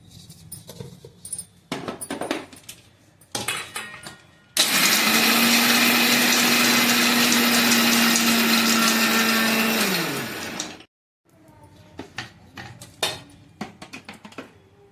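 An electric mixer grinder pulverizing roasted peanuts into a coarse powder, a loud steady whirring roar lasting about six seconds before winding down, framed by rattling taps and shakes of the jar before and after.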